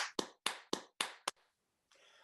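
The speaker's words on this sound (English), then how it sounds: "Let's give Dr. Fergus a round of applause." A handful of sharp, separate hand claps ring out close by for Dr. Fergus at a virtual celebration, then stop, leaving a faint hiss.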